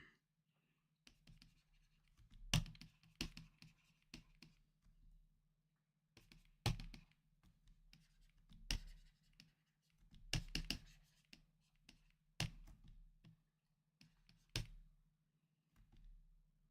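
Pen or pencil scratching across paper while writing out a math proof by hand, bursts of close scribbling strokes and taps in uneven clusters with short pauses, no talk.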